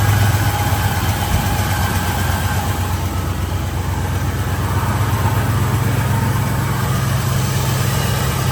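A 1978 Chevrolet K10 pickup engine runs steadily, a loud continuous low rumble with exhaust drone and no breaks, heard close and alone without talk.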